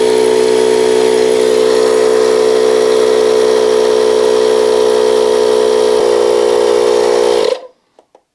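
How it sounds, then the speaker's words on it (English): A light portable air compressor pumps up the tire of an old East German moped, a steady loud droning hum that runs for several seconds, then cuts off, leaving silence and a couple of faint clicks. "it's nice to have a very light and easy to use compressor to put some air into the tires"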